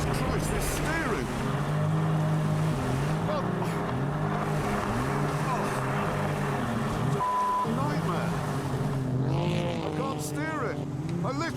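A car converted into a jet boat running on the plane across water, its engine droning loud and continuous with shifting pitch and spray noise, while people talk over it throughout.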